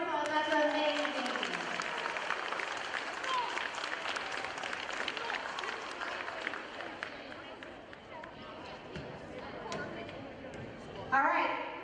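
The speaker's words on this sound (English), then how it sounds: "Let's give them a round of applause." Sustained applause from a middle school award assembly crowd, a dense, even roar of clapping lasting about eleven seconds, with faint voices underneath and a brief shout near the end.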